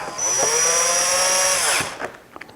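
A power screwdriver drives a long screw into the plastic back panel of a Vizio TV beside the HDMI connectors. It whirs steadily for nearly two seconds, close and loud, then stops, followed by a few small clicks.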